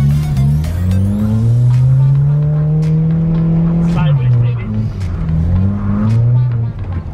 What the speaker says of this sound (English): Ooh, that rev limiter, baby.